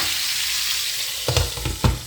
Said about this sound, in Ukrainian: Смажиться курочка.